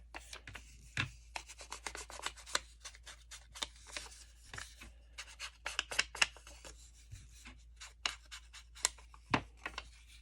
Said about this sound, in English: I'm just going to trim away some of the white.